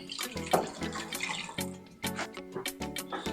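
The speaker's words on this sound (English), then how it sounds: "I'll go ahead to add water" Water splashes and pours in uneven gushes into a cooking pot holding rice, pineapple juice and meat stock, with clattering and sloshing, close and moderately loud.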